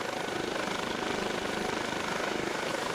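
A Eurocopter HH-65 Dolphin Coast Guard helicopter in Flight Simulator X gives a steady, dense rotor and turbine roar that holds constant and loud throughout, with no talk.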